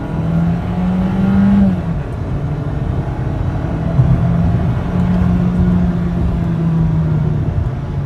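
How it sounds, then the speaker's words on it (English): A Volkswagen Golf 1.4-litre turbo four-cylinder engine revs hard under full throttle in sport mode, a steady loud drone with a rising whine, sustained throughout. "It revs up pretty high and it sounds kind of funny."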